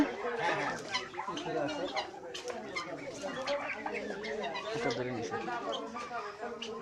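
Farm chickens clucking and calling in a busy coop, their overlapping bird calls running steadily throughout beneath nearby conversation.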